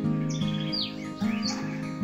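Parrot-like chirps and squawky whistles come in short bursts close by, a few bright calls in quick succession over a low steady background hum.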